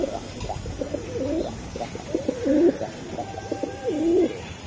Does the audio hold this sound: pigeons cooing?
yes